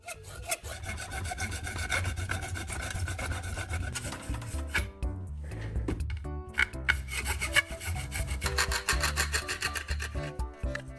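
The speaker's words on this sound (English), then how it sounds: "Continue cutting along the length of the pipe so it opens into a flat sheet." Handsaw cutting lengthwise along a PVC pipe clamped in a vise, a steady rasping stroke sound repeating close and loud throughout, with no voices.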